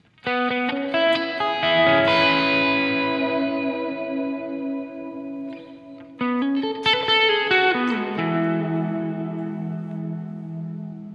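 Electric guitar through a Walrus Audio Slö multi-texture reverb pedal with pre-delay set, played as two strummed chords whose ringing harmonics swell and wash into long, shimmering reverb tails, loud and alone.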